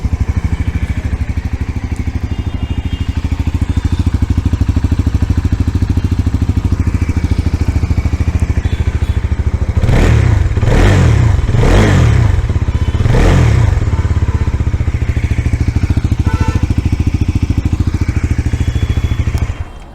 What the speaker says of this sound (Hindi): ये आवाज़ है इस मोटरसाइकिल की